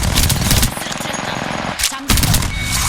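Rapid gunfire in an Apex Legends match, loud bursts of automatic shots crackling close, broken by a short pause before firing resumes.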